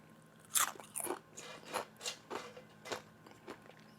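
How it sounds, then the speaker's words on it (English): Crunchy homemade chips seasoned with Slap Your Mama Cajun seasoning being bitten and chewed up close, with a string of sharp crisp crunches at a steady chewing rhythm, fairly quiet and with no talking. "you have some amazing crunchy"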